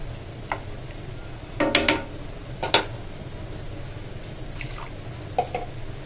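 Water poured into a pan of boiling fish roe gives a few light splashes and drips over a steady low simmering hiss, close and fairly quiet.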